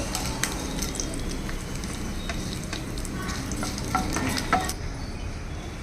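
Dry red chillies fry in hot oil with ginger, a steady dense sizzle and crackle filling the whole stretch, with a few scraping stir strokes and occasional spits popping above it.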